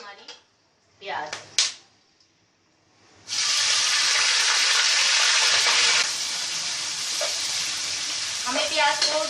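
Onions hit a hot pan with garam masala and erupt into loud, continuous sizzling and frying after a few seconds of quiet clatter, the hiss staying steady and close with occasional stirring.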